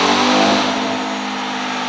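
A Dodge Durango Hellcat, tuned to around 1000 horsepower and towing a trailer, revs loudly and up close, its engine note strong at first and easing slightly as it holds a steady high roar.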